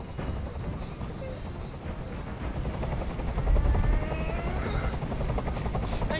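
A helicopter in the video game Detroit: Become Human drones loudly and steadily throughout, its rotor rumble swelling midway, with a faint voice underneath.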